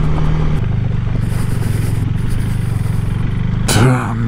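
A motorcycle rides over loose, sharp rocks on an Icelandic mountain crossing. A loud, steady engine drone carries gritty crunching throughout, and a sharper scrape with a rising rev comes near the end.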